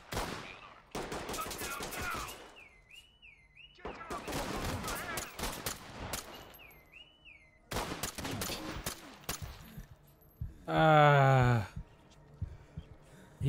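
Loud automatic gunfire bursts in the tactical shooter Ready or Not, several long rattling volleys separated by short pauses, close and harsh, with voices and game sounds between the bursts.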